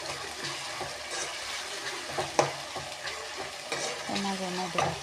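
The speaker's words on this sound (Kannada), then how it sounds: "ಇದು ಮಿಕ್ಸ್ ಮಾಡ್ತಾಯಿದ್ದೀನಿ." Food sizzles in hot oil in a pan while a utensil stirs and scrapes through it, with irregular clinks and bursts of frying crackle throughout.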